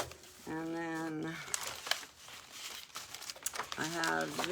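Paper for a pirate-themed junk journal is handled and crinkled, with a soft, irregular rustle and a few sharp crackles running through the pauses between stretches of a woman's speech.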